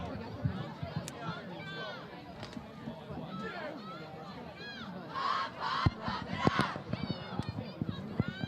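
Cheerleaders at a high school varsity football game shout and chant to rouse the fans, with rhythmic yells over crowd chatter and stadium murmur, growing louder partway through.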